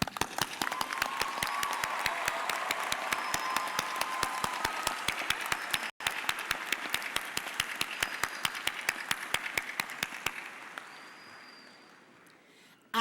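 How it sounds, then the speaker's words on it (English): Sustained applause from a large audience at a university commencement ceremony, steady and full for several seconds before gradually fading away. "Please join me in applauding them."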